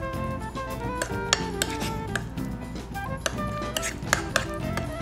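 Cajun aioli being mixed with hot sauce and blackening seasoning, close clinks and taps of a utensil against a bowl over a steady background of other kitchen sound.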